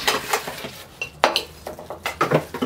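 Metal bar tools such as a stirrer, a long spoon and a cocktail shaker clink and rattle against each other during an unboxing, a steady run of close, bright knocks and chinks with no talk.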